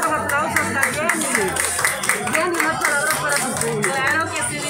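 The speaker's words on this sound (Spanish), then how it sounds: "Aplausos a Jenny." Audience members clap for dancers at a folk dance show, the clapping uneven and mixed with chatter and voices, people talking throughout.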